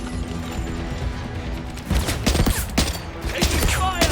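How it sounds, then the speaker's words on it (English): Loud bursts of automatic gunfire and impacts in the action game 007 First Light, a rattling volley breaking out midway after a tense lull, close and harsh. "Taking fire!"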